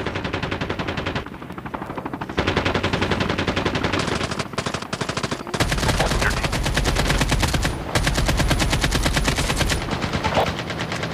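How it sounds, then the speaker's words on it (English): Sustained automatic gunfire rattles at the player in a battle royale shooter, with dense rapid bursts, heavy volleys and near-constant shots that stay loud throughout and barely pause. "Oh shit, I'm being shot at."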